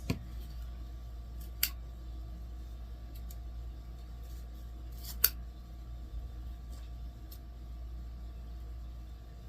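Scissors snip through 12-inch deco mesh pieces for a fall pumpkin wreath, giving three sharp, isolated cuts spaced a few seconds apart, close and fairly quiet over a steady low room hum.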